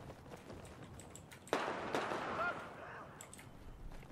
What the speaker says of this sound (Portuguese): Opa, tiro de 12 aqui de cima, ó.